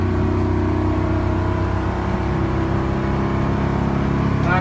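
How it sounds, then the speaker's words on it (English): Gas RV motorhome towing a fully loaded Mini, accelerating from a standstill toward 60 mph: a steady, loud engine drone with layered low hum and rising whir throughout, no voices. "0 to 60 in 30 seconds with our coach."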